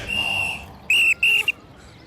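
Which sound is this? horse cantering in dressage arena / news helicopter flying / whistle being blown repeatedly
whistle being blown repeatedly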